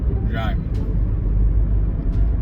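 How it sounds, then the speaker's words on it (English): A car being driven, its low engine and road rumble steady and close throughout, with a brief higher whine early on. "I'm driving."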